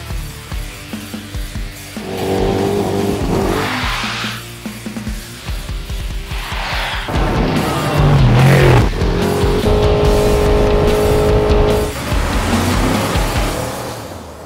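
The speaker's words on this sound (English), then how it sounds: "We are throwing it sideways today, and we are throwing it sideways in a Toyota iRoad." A Toyota i-Road small electric tilting vehicle is thrown sideways, with tires squealing and scrubbing in repeated loud bursts between stretches of quieter rolling noise.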